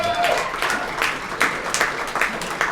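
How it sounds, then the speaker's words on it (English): An audience at a radio roundtable breaks into applause, a burst of scattered clapping with sharp individual claps standing out, slightly uneven and moderately loud. "Can I get a round of applause for Ben Davis for one hell of a no vote effo"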